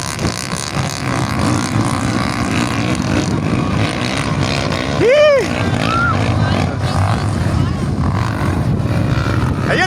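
Kolong-kolong motor tricycles race in Llanera, Nueva Ecija, engines droning steadily and loudly throughout, with one rider pulling ahead on a China-made engine and a brief surge of nearby revving midway.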